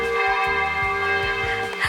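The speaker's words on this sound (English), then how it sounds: "That's the hurry up, you gotta get home bell." A church bell in a small Franconian town in Germany rings at 8:30 in the evening, with repeated close, loud strikes and a long sustained ringing hum between them.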